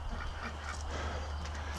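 Ducks being put away for the night give low, faint quacks and murmurs under a steady background hum, in a brief, calm stretch.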